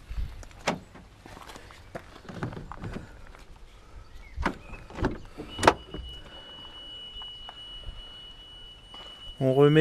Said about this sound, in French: Donc pour ce faire, on ouvre la voiture.